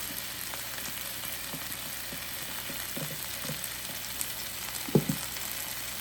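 Chicken breast stir-frying with capsicum and green chillies in a pan, a continuous hissing sizzle with occasional spatula scrapes and a sharper clatter near the end, moderately quiet and without speech.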